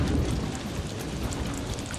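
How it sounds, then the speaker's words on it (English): Heavy storm with dense, steady rain pouring and low rumbling, continuous and loud with no pauses. "The storm arrives with a vengeance."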